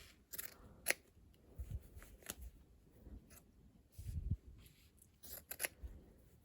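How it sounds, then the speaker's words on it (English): Scissors snip diagonally through T-shirt fabric for an upcycled rug, giving a close series of crisp, irregular cuts with soft rustling of cloth in between and no talk. "then cut the rest following that pattern all the way through"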